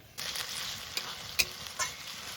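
Fried onions with ginger-garlic paste sizzle in a pan at low volume, a steady hiss broken by a few soft stirring scrapes.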